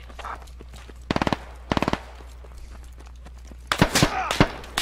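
Gunfire from a video game comes in two short rapid bursts of automatic fire, followed by a louder cluster of shots and impacts over a low background hum.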